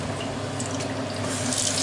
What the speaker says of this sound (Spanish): Voy a limpiar esta olla que fue anoche que hice sopa.